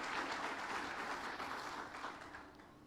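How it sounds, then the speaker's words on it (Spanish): Applause from a church congregation during a Spanish-language sermon, a dense, steady crackle of many hands clapping that holds at a fairly even level and eases off slightly toward the end. "How many of you give a great round of applause to the Lord Jesus?"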